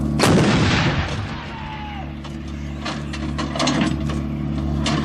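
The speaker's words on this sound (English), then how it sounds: "The gun will now fire 3 rounds in area diamond." A heavy artillery gun with an automatic loading system fires in a rapid three-round burst, a loud boom followed by clanking, ratcheting mechanical noise and a low rumbling hum.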